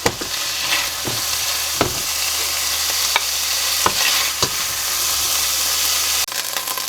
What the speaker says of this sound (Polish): Teraz wyjmę kurczaka z garnka